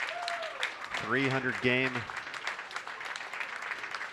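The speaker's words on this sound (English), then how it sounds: "Well-deserved round of applause for the Hall of Famer." Spectators at a senior bowling masters match-play event give steady, quiet applause, while a commentator speaks briefly over it.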